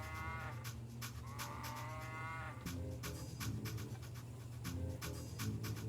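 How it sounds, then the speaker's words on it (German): A cow moos in the Nancy Drew game Secrets Can Kill, several drawn-out low calls sounding over steady background game music, with no talking. "War das eine Kuh?"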